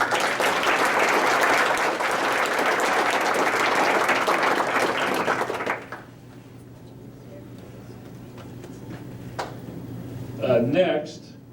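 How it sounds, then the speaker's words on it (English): Applause from the audience at a school Board of Education meeting fills the room for about six seconds, then dies away, leaving a quiet hall with faint rustling and a brief burst of voices near the end. "So let's give her another applause"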